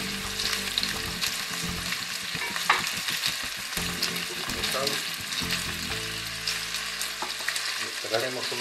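Bell pepper and onion gently frying in a pan, a continuous close sizzle with stirring scrapes and small clatters throughout, no voices.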